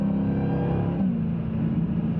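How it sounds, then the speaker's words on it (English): A Dodge Challenger Hellcat Redeye engine drops through a delayed downshift partway through in cold weather, its low steady drone shifting pitch as revs fall, loud and close with no talk. "there's definitely a delay on these downshifts"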